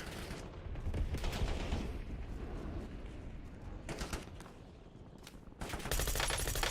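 Incoming fire in the shooter game Black Ops 7, with dense rapid gunfire and fusillades rattling continuously up close, briefly easing before a loud fresh burst near the end.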